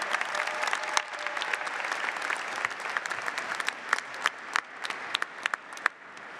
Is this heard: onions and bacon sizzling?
no